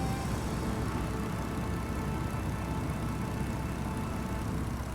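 Steady engine drone inside a light aircraft flying at just under 100 knots on a record-recreation flight from Bandar Abbas to Karachi, a constant even roar with no breaks.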